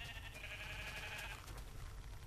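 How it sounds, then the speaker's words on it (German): A sheep in the video game Minecraft gives a brief, faint bleat over a steady background hiss, a single wavering call lasting about a second. "wir müssen 3 Schafe töten, damit wir jeweils eine Wolle kriegen"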